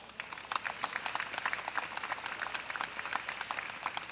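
Applause from a crowd at a national teachers' rally demanding protection of teachers' rights, steady scattered clapping of moderate loudness lasting several seconds with no talk over it.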